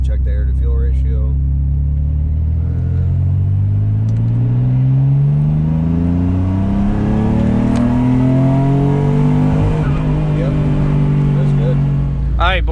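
A built twin-turbo Mitsubishi 3000GT on the street under full throttle, engine pitch sweeping steadily upward for several seconds, heard loud from inside the car with brief talk at the start.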